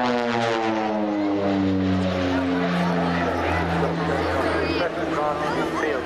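Rockwell OV-10B Bronco twin-turboprop aircraft at a seaside air show, a loud steady propeller drone with shifting harmonic pitch, close and continuous, under a commentator's amplified voice.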